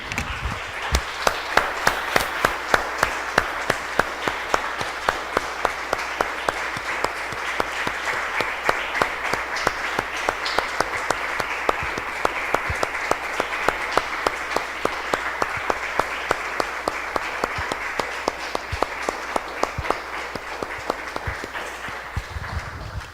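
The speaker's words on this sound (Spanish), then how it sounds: "Damos un aplauso, hermanos, al Señor." A church congregation applauds, many hands clapping in a steady, rhythmic beat that carries on for over twenty seconds at moderate loudness, with no talk over it.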